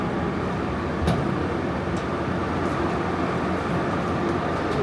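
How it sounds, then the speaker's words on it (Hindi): Steady, loud rumble of a passenger train as it starts moving, with continuous low rolling noise and a few faint clanks; no talking. "ट्रेन चल पड़ी।"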